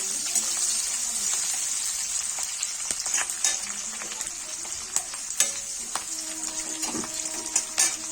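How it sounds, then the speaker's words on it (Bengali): Chopped onion sizzles steadily in a little oil in a kadai, a continuous bright frying hiss with scattered pops and occasional scraping stirs, close and alone without talk. "কড়াইয়ের মধ্যে অল্প তেল দিয়ে দিয়েছি আর দিয়ে দেবো পেঁয়াজ কুচি"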